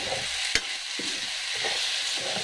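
Potatoes frying in oil with mixed spices, coriander and chili, a constant close sizzle broken by a sharp clank and several scraping stirs.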